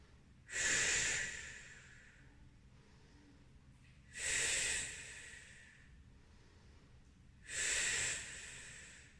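Slow, deep breathing while resting in child's pose during a full-body Pilates mat workout: three long inhale-exhale swells, each about a second, spaced evenly with quiet pauses between, close and breathy.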